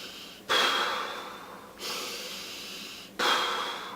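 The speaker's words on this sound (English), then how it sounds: "taught me to take 10 deep breaths like this" Slow, deep breathing as a calming exercise: long airy inhales or exhales, three of them in about four seconds, close and fairly loud, each swelling suddenly and then fading.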